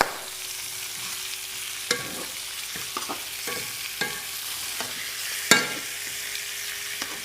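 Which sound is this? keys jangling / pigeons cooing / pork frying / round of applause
pork frying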